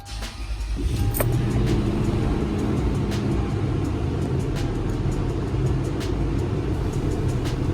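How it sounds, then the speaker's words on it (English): A car engine on a project build turns over and starts, then runs at a steady, loud, close idle with a continuous low rumble and no voices. "All right, we're gonna turn the car on."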